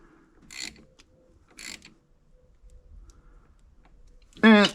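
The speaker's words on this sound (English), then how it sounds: "I can hear a ratchet clicking" A ratchet clicks in short bursts while bolts are tightened on the aluminum housing of a 1968 Chevelle's 396 big-block engine with a Holley Sniper setup. Two distinct bursts of rapid clicks sound close by, followed by a person speaking.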